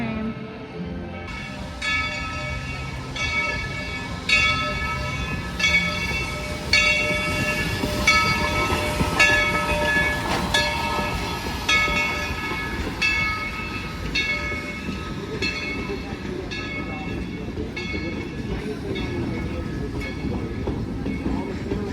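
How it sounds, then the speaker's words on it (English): A theme park train at Dollywood in Pigeon Forge, Tennessee rumbles past steadily for a long stretch, wheels clattering with metallic ringing tones and a bell-like chime above the rolling noise. "Here comes the train."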